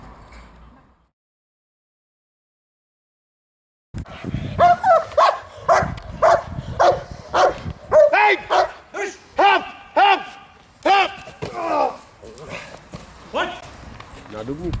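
Dogs at a dog training club in Dubnica nad Váhom bark in a steady run of loud, close, repeated barks after a few seconds of silence, with voices talking underneath.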